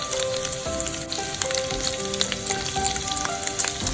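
Bacon fries in a pan with a steady, close crackling sizzle and scattered pops throughout, and no voices.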